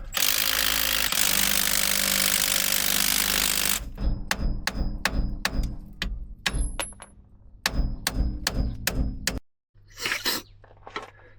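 Impact gun rattling off the lower knuckle bolts on a Nissan Micra being built for off-road, a loud continuous buzzing burst at first, then a run of sharp metallic knocks and clicks with short pauses.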